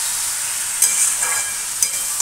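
Fish curry masala for a Bengali fish dish frying in oil, with a steady crackling sizzle, a few sharper spits and stirring scrapes close by, and no one talking.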